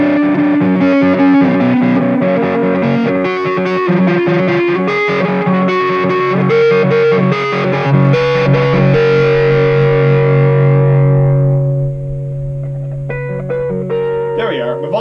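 An electric guitar on its neck pickup plays loud, distorted chords and notes through an Orange Micro Dark amp into a Bugera 112TS cabinet, a sustained note ringing out before a few final plucks.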